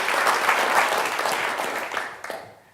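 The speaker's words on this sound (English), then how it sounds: "A final round of applause for Liz." A live audience at a city planning talk gives a final round of applause for a speaker, with dense, steady clapping that thins and fades out toward the end.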